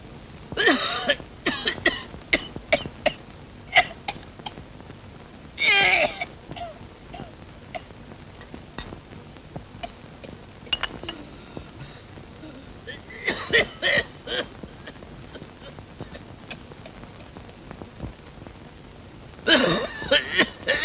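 Repeated bursts of harsh coughing from an elderly man come in separate fits, with throat clearing between them and quiet room noise in the pauses.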